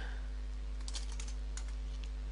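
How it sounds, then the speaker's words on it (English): Keys on a computer keyboard are tapped in a quick run of light clicks. The typing is close and soft over a steady low background hum, with no talking. "I type Vitamix"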